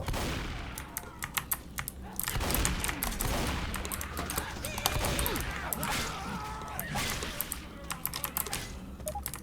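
Rapid gunfire from the Left 4 Dead 2 video game crackles in dense, overlapping bursts throughout, loud and continuous, with players talking over the shooting.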